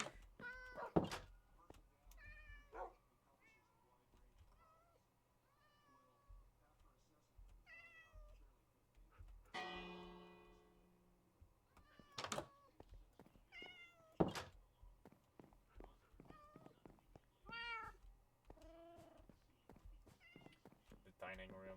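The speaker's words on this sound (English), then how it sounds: "I'm not sure if I have my real life cats in here." Repeated Minecraft cat meows in a video game, short and scattered through the clip among thunks and other game sounds, with a person talking over them at times.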